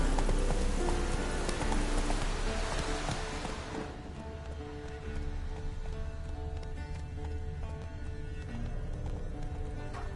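A horse gallops in a PlayStation 4 video game, with fast, rhythmic hoofbeats under loud, dense game sound that drops in level partway through, while the galloping carries on steadily to the end.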